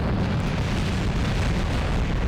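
A rocket engine roars at full throttle during a launch in Kerbal Space Program, a loud, steady, broadband rumble that fills the whole moment without a break and without any talking.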